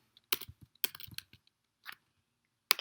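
Keystrokes on a computer keyboard as a word goes into a web store search box, coming in a few short quick bursts with pauses between them, close and fairly quiet.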